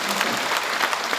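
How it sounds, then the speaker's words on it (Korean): Audience applause at a city mayor's talk concert in Andong: brief, dense clapping from a crowd, steady and moderately loud for just over a second, no voices over it. "박수 한번 주셔야 되는데."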